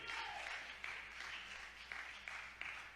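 A church congregation applauds during a sermon, sustained crowd clapping heard faintly and at a distance, with a few sharper claps standing out from the steady wash.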